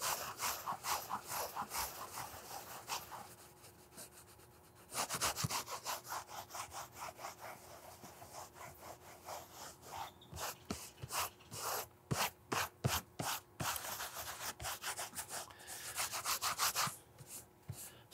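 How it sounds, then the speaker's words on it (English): Leather cowboy boots get conditioner rubbed over the tops and foot, producing brisk, rhythmic scrubbing strokes with a raspy swish, close and steady, with a few short pauses. "this is just the rubbing of the tops and the foot with this conditioner that's been put on"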